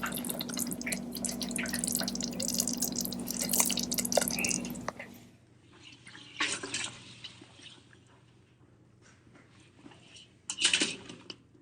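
Sauce dripping and pouring over fire cracker duck wings, a dense wet pour for about five seconds with a steady hum beneath, then sparse drips and soft patters in a quieter kitchen.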